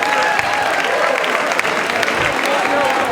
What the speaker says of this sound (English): How about a big round of applause for Beverley and for Oliver?